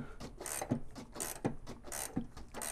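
A hand ratchet works on the front QA1 coilover bolts of an 86 Monte Carlo SS, snugging them up with a steady back-and-forth run of close, clicky strokes over a constant background rush.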